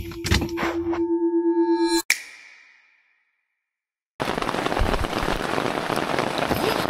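Rain falls on a family campsite at a lake resort in Cavinti, Laguna. A steady, dense hiss starts a few seconds in, after a short tonal passage and a moment of silence, and carries on to the end.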